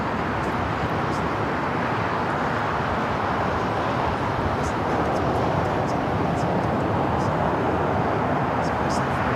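A Qatar Airways jet takes off from the north side at LAX, a steady broadband roar that holds loud and constant throughout, with voices talking faintly over it.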